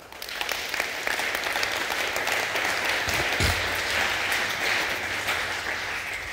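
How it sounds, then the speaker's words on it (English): A church congregation claps during a sermon, a dense, even wash of applause sustained at moderate level, with a few low thumps partway through. "can you clap better?"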